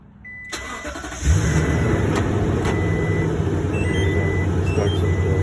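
Toyota Tundra pickup truck started by a remote starter: a short cranking burst, then the engine catches and settles into a steady, close idle, with a faint chirp or beep near the start.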